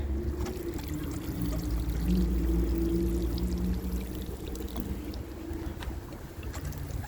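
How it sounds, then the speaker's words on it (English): Water pours steadily from a can or hose onto garden plants, a soft, continuous splashing close by that swells and eases slightly, with no talking. "so I can water properly."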